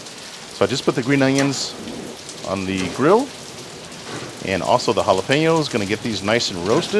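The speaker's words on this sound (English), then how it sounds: "We had a really bad rainstorm move in just now." Steady heavy rain from a rainstorm hisses continuously outdoors at a grill where green onions and jalapenos are roasting, running beneath someone talking throughout.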